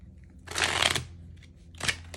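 Tarot cards are shuffled in two short bursts, a longer riffling flutter and then a brief second one. Close and soft, with no talk.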